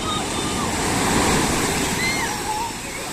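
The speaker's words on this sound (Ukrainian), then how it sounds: "І такий шум стоїть гуде, як іде хвиля, чути навіть, як гуде воно." Ocean waves break and surge along the rocky shore at Puerto de Santiago, Tenerife, a loud continuous roar with wind and occasional high voices faintly in the mix.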